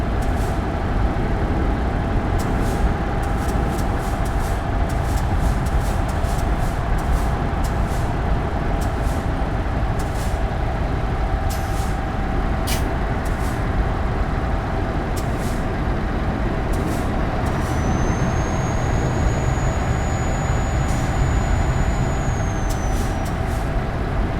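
A Scania V8 truck in Euro Truck Simulator 2 drives at full throttle while hauling a train load, a steady loud engine roar with faint high electronic chirps and beeps over it.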